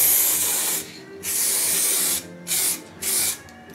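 Aerosol spray can coating a rifle stock, with several hissing bursts of spray separated by short pauses, loud and close with no talking.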